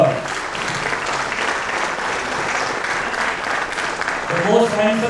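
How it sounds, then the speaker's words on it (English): A round of applause at a Builders Association of India Pune ceremony: steady, dense clapping from a crowd that holds for several seconds and swells near the end, with a voice speaking over it. "A big round of applause."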